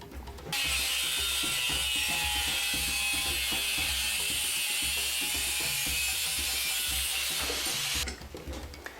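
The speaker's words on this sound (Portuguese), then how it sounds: "Então tá aqui, prendi a peça no esquadro." A clamp is tightened on a wooden workpiece held against a square on a workbench, producing a close, rapid run of ratcheting mechanical clicks and grinding that starts sharply, runs steadily for several seconds, then stops.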